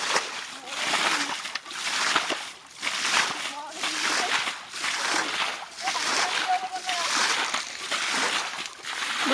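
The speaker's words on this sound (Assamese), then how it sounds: "ইয়াত পানী সিঁচা মেচিন দুটা মেচিন লগাইছোঁ পানী সিঁচা।" Two water pump machines drain water at a fishing spot, with constant loud splashing and gushing in rhythmic surges while a person talks over it.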